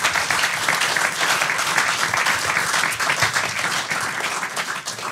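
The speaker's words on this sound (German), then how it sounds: "nochmal einen riesen Applaus für unsere drei Spieler" Live podcast audience applauding three LASK footballers, steady dense clapping filling the room for several seconds, loud and continuous with no talk over it.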